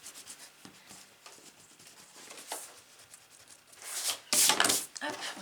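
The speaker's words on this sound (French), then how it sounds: "Je vais juste gommer ce que j'ai mis là." Pencil marks rubbed out with an eraser on paper card, soft close scrubbing strokes building to a brisker, louder burst near the end, with faint background sounds.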